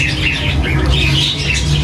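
Several birds squabble, squawking and chirping over one another in a steady, busy morning chorus, close and fairly loud, with no talking.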